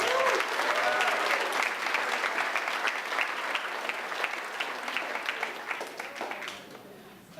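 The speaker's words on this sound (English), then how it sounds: "So one more round of applause for our student speakers." Sustained audience applause at an eighth-grade graduation, honoring the student speakers, with dense clapping from a large crowd that stays strong and then tapers off toward the end.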